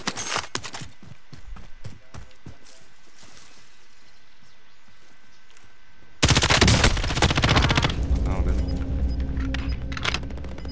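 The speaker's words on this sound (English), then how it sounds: "I've got somebody else shooting at me" Rapid gunfire bursts in the shooter game Warzone, sharp cracks clustered at the start, then a quieter stretch before a loud, sustained barrage takes over for the remaining seconds.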